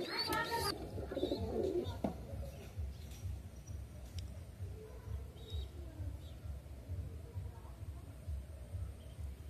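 Domestic fancy pigeons of Dobuzz, Kalanka and Andhra breeds coo softly and repeatedly close by, while people talk over them throughout.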